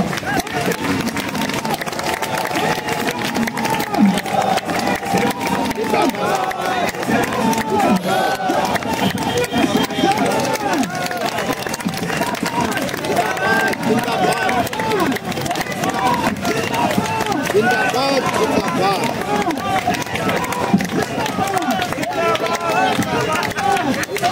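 Protesting contract workers at Delhi University fill the air with loud, steady clapping and cheering, a dense crowd roar that continues without a break and sits close throughout.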